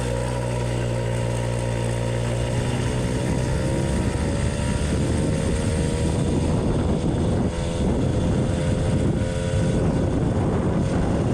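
A motorbike with drum brakes accelerates hard from a standstill to about 50 km/h, its engine note rising steadily through a loud, buzzing run with wind rush, no voices.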